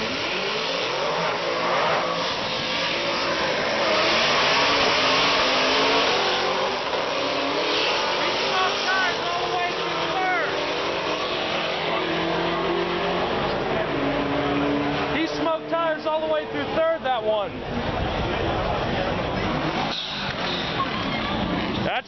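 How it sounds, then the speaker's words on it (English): A car drifts at an event with Vipers, a built Subaru and a Camaro, its engine revving and wailing up and down continuously, with crowd voices and shouting mixed in throughout. "We're still out there drifting."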